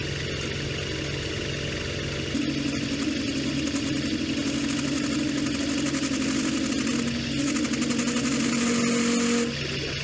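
A milling machine cuts with a 1/4 inch roughing end mill while vibrating, a steady mechanical hum and chatter that grows louder when the cut begins and drops off near the end, with no talk over it.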